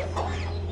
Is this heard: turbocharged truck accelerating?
no